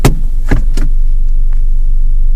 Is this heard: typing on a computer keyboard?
no